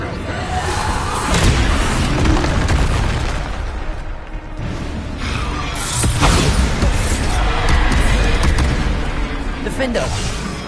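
Bombarda spells cast in Hogwarts Legacy burst in repeated loud booming explosions with whooshes, several blasts in succession amid shouted incantations.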